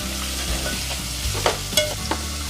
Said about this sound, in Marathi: आता आपण टाकूया कांदा, चांगलंसं भाजून घेऊया।